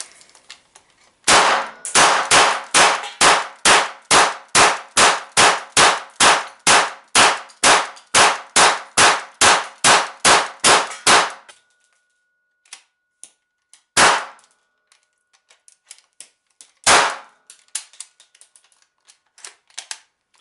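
A GSG MP 40 9mm submachine gun firing a full magazine during a 500-round endurance test: a rapid string of about twenty sharp, loud shots over ten seconds, then silence broken by two isolated shots.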